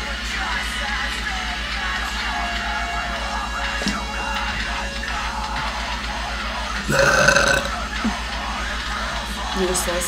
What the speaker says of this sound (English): I'm gonna do this burping thing